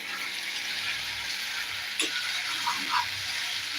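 Potato curry with garam masala sizzles steadily in a pan while being stirred, a continuous frying hiss with a few soft scrapes of the spoon partway through.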